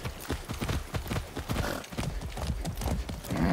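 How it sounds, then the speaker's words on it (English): Horse in the video game Far Cry 6 moving at speed, with rapid rhythmic hoofbeats that are close and continuous, busy with gameplay noise throughout. "That's a good horse."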